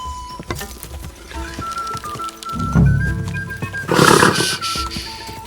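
A horse in the medieval game Kingdom Come Deliverance 2 snorting and whinnying loudly in two bursts, close and strong, over game ambience and a sustained musical tone.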